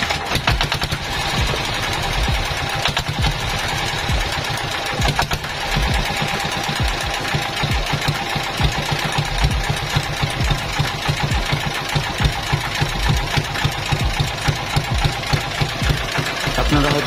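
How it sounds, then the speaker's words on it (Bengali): A freshly serviced Honda CD175 motorcycle engine starts and settles into a running idle, a rapid, even, rattling beat of firing pulses that holds steady and close for the whole stretch. "তাই আগে ইঞ্জিনটা স্টার্ট করে দেখি যে সাউন্ডটা ঠিক হয়েছে কিনা"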